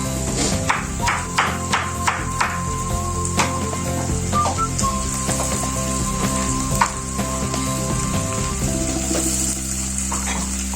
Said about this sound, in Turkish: Şimdi kıyma da koyacağım.